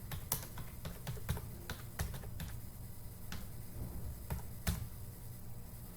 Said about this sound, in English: So we'll type that in right now.